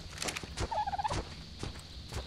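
Terror bird creature in ARK: Survival Evolved letting out a short warbling, turkey-like squawk mid-clip, close and fairly loud amid game footsteps and background noise.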